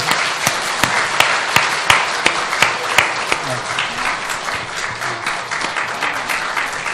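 Church congregation applause at an annual members' meeting, a steady crowd of clapping with sharp, distinct individual claps standing out near the front, continuing evenly throughout.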